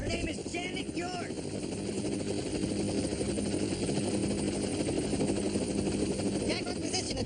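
Helicopter in flight, a steady rotor drone and engine hum running throughout at moderate distance, with brief voices speaking under it.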